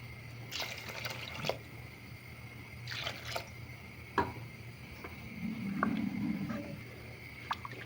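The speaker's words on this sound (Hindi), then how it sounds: "इसमें मैं पानी थोड़ा सा और डालूंगी" Water splashes and trickles into a cooking pot of lentil rice in short bursts, with clinks and a steady low hum in the background of a quiet kitchen.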